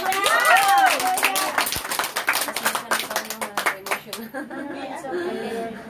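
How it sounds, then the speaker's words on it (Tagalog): An audience at a Filipino church gathering claps together, a burst of rhythmic hand claps following a speaking voice, continuing unevenly for several seconds before thinning out. "Pwede pumalakpak tayo."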